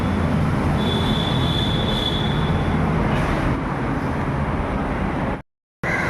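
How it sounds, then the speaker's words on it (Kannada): At a railway station, a train rumbles past loudly and close, wheels grinding with a thin metallic squeal, the roar holding steady until a sudden cut near the end. "ನೋಡಿ. Railway station"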